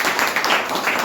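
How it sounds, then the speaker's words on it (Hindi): A crowd gives loud, continuous clapping for board exam toppers at a matric 2023 celebration, dense and steady throughout with no pauses. "फिर से जोरदार ताली।"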